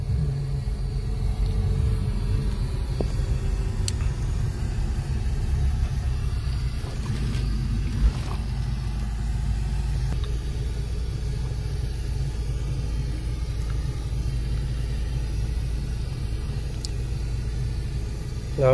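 A Mahindra Scorpio SUV engine running while driving, a steady low rumble that holds throughout at a constant level, with faint road noise and no talking.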